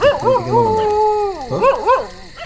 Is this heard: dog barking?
yes